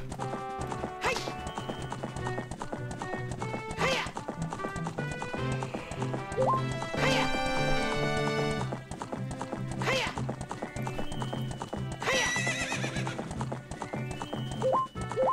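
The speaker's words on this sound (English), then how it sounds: "Okay, so you can't get the horse to jump over that fence" Hooves clip-clop in rapid galloping rhythm from a horse in The Legend of Zelda: Ocarina of Time, with occasional whinnies and game music layered over the running.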